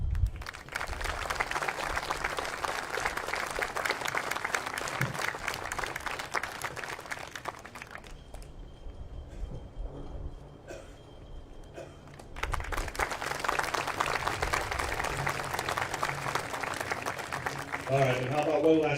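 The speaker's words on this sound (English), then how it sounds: "how about one last round of applause just for all of our applicants and new citizens" An audience at a citizenship ceremony gives a long round of clapping, dipping briefly in the middle before swelling again, with a voice faintly heard under the applause.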